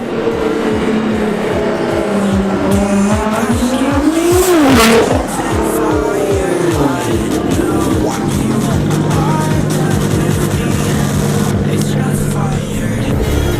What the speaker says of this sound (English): And here comes a GTR.